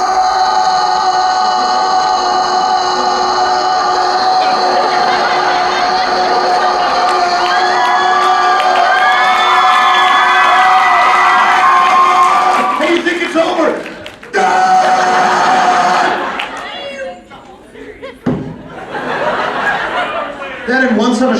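An audience at a convention voice-actor panel screams, cheers and laughs loudly, with excited shouting swelling and then breaking into scattered laughter, and voices talking underneath.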